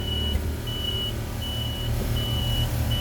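Fire truck engine running at high idle with its water pump engaged during a firefighter training exercise, a steady low rumble with a repeating high electronic beep over it.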